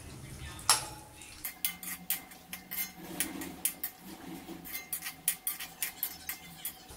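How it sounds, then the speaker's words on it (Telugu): Dry fruits frying in ghee in a pan while a utensil stirs them, producing rhythmic scraping and clinking strokes, close and fairly light, over a faint sizzle. "ఈ డ్రై ఫ్రూట్స్ని కొద్దిగా కలర్ చేంజ్ అయ్యే వరకు వేయించాలి."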